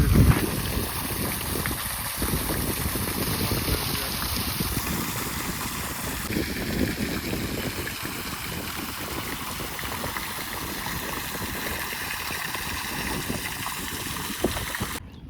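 Fast-flowing water rushes through a state botanical garden, a loud continuous broadband wash heard throughout without pause.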